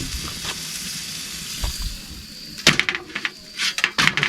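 Butter sizzles on venison tenderloins in a hot pan, a steady frying hiss broken by a few louder crackles and handling knocks toward the end.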